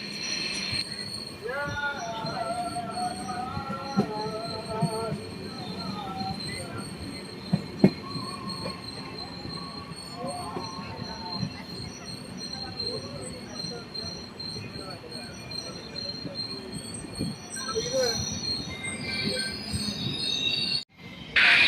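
The Ernakulam-Velankanni Express pulls away from Karunagappally station, its wheels squealing and clattering over the rails in a steady, loud rumble, with occasional station voices in the background.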